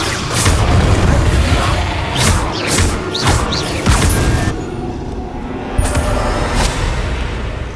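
An Incendio fire spell cast in Hogwarts Legacy sends out a run of loud whooshing bursts and booming impacts, several in quick succession, then fading into a lower rumble with a final thump.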